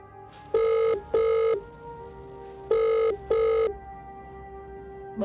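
A telephone rings in two pairs of evenly spaced electronic rings, loud and close, over a low steady background hum.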